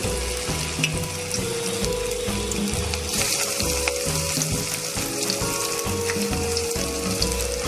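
Battered soybean pakoras fry in hot oil over a medium gas flame, a steady bubbling sizzle running the whole time with occasional faint clinks, and no voices.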